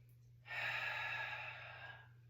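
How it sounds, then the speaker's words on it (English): One long, close breath out lasting about a second and a half during an ankle mobility exercise, breathy and steady against a low background hum, with no speech. "Keep breathing."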